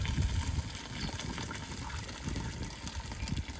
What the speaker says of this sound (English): I am now going to be adding in the water for the water pan. I'm going to fill that right to the top.